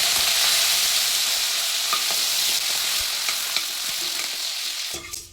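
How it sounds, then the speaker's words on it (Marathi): Curry leaves frying in hot oil for tempering kothimbir chivda give a loud, steady, close-up sizzle with a few light stirring clicks, easing off near the end. "फोडणीसाठी पण थोडासा कढीपत्ता तळून घेऊया"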